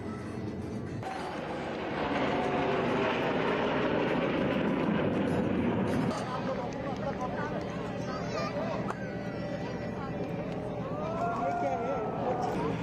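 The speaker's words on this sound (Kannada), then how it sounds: "you are seeing the B-8R. Security helicopter." A security helicopter flying at the Aero India air show in Bangalore gives a loud, continuous rotor and engine roar that swells and holds steady throughout, with crowd noise and voices beneath it.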